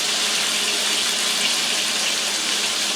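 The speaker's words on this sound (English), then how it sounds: "I'm going to cut the water off." Steady hiss of water pouring from a tap, continuous and close, with no voices.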